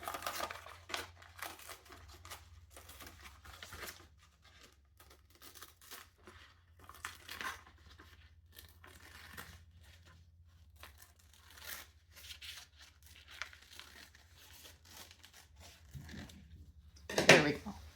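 Newsprint wrapped around a nylon-covered pool noodle being cut and torn, with repeated dry papery rips and crinkles coming in irregular bursts up close, ending in a louder crunchy tear.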